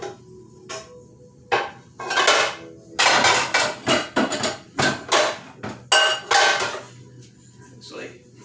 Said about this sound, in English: let me get a pot together